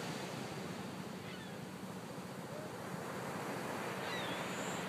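Steady roar of ocean surf washing continuously onto a beach, with wind buffeting the microphone throughout.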